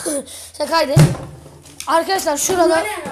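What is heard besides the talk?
door slamming shut in abandoned school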